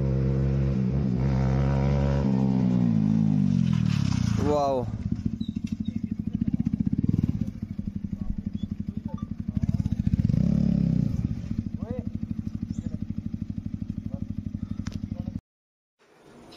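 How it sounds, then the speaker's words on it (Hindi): Superbike motorcycles, two Suzuki Hayabusas and a Honda CBR 650, arrive at a temple on a countryside ride, engines rumbling loudly up close with revving and clattering idle, then cutting off abruptly, while a man exclaims over them. "देखिए बाइक की आवाज आ रही होगी, एक हमारे राइडर जो रह गए थे वो आ रहे हैं"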